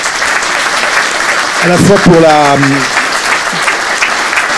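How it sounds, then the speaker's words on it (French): Loud audience applause fills the room at a ministerial question-and-answer session, dense continuous clapping with someone speaking briefly over it midway. "Je pense qu'on vous applaudira très fort"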